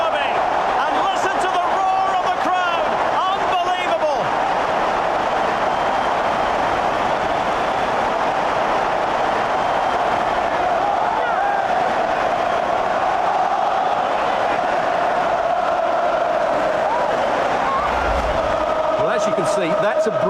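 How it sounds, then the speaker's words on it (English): A loud, sustained stadium crowd roar fills the whole stretch after an Arsenal goal against Spurs in a FIFA Premier League derby match, a steady wash of massed voices with commentary-like talk woven through it. "And listen to the roar of the crowd."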